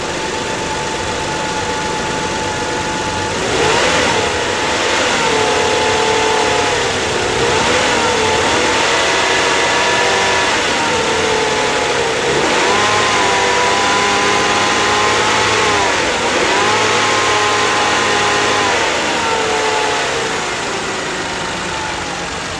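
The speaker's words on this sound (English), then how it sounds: "some of you wanted to see what happened when I rev up the engine" A car engine revs up and down repeatedly, its pitch rising and falling in long swells over a steady running drone, loud and close.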